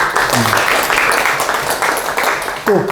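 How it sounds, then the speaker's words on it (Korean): An audience at a seminar claps in a short, close burst that fades out, and a voice breaks in just at the end. "박수 한번 주세요"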